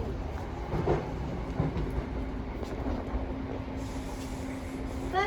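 A London commuter train runs at speed, heard from inside the driver's cab: a steady low rumble with a faint mechanical hum and occasional soft clicks, no voices.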